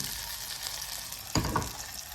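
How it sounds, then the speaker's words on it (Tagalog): Pork sizzles steadily in hot oil, a constant crackling hiss that briefly flares louder midway as something shifts in the pan. "Yan yung pagkaprito ng baboy ko"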